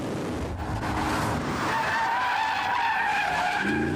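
A Porsche Cayenne GTS is driven hard, its tires squealing in a sustained skid over a loud engine note, close and continuous.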